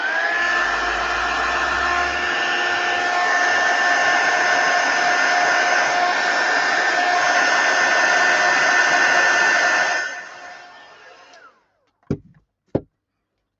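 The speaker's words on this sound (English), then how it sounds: "So I'm just going to quickly zap it with my heat tool." A heat tool blows a loud, steady whooshing hum while drying pigment ink on a stamped card. It runs for about ten seconds, then winds down and cuts off, followed by two sharp clicks.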